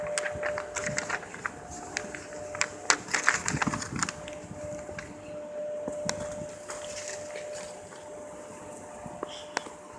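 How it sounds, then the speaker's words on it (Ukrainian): Irregular splashing and spattering of water in a farm field of lettuce, close by, with scattered sharp drips over a steady background hiss. "Вода бризкає."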